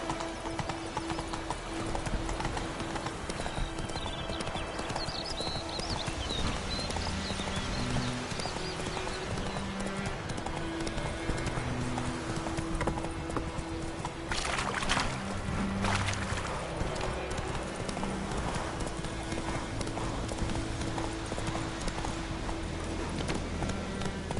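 Hooves of Roach, a horse in The Witcher 3, clop in a fast steady galloping rhythm throughout, close and continuous over game ambience, with a brief louder burst midway.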